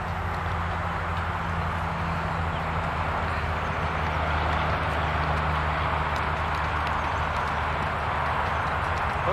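Faint horse hooves clip-clop at a horse show against a constant low rumbling background, with no clear talking.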